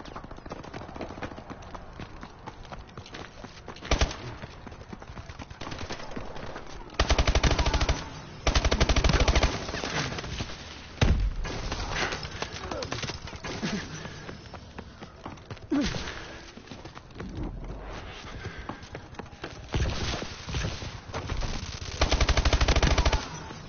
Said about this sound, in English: Shooting him about 10-15 times, maybe.